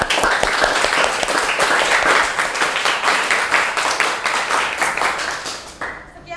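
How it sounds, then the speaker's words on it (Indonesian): A classroom of students applauds after group 2's presentation, with dense, rhythmic clapping sustained for several seconds before it quickly dies away. "Tepuk tangan untuk kelompok 2."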